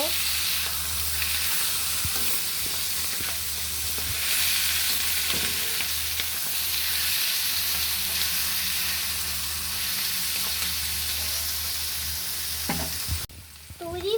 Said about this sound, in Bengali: ঢাকনাটা আবার তুলে নিব নাড়া দিয়ে দিব